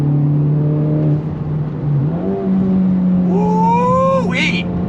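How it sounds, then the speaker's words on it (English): Honda Civic Type R FL5 with a titanium exhaust revving close up as it downshifts to third, the engine note climbing and falling steadily with a sharp rise near the end; a voice talks over part of it. "I'm gonna downshift to third. You get some pops, you get some bangs."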